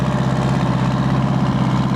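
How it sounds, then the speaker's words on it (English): An old tractor engine idling at a steam-era show, giving a steady low throbbing rumble with an even rapid pulse, close and continuous throughout. "Kevin Walker's tractor"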